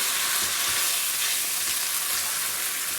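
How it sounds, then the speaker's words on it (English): Cauliflower being mixed in red chili sauce in a hot pan gives a steady, loud sizzle and frying hiss throughout, with soft scraping stirs underneath and no talking. "And you mix them nicely."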